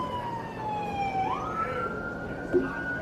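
An ambulance siren wails and sweeps in pitch, fairly loud and close, over a low rumble of traffic.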